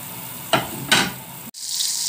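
Onion frying in oil until browned, a steady sizzle with two brief louder hissing surges and a short cut before the frying noise resumes, close and fairly loud.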